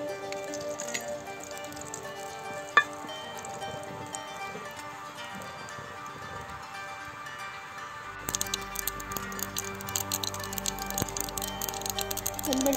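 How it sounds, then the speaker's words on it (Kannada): Mustard seeds temper in a little hot oil for a raw tomato chutney. A quiet kitchen hum gives way partway through to busy, irregular crackling and popping that keeps going to the end. "ಒಂದು ಸ್ವಲ್ಪ ಎಣ್ಣೆ, ಒಂದು ಸ್ವಲ್ಪ ಸಾಸಿವೆ ಒಗ್ಗರಣೆ ಹಾಕ್ತೀನಿ"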